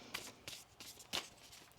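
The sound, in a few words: shuffling a deck of oracle cards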